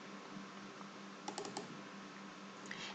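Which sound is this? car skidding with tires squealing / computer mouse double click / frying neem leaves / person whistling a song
computer mouse double click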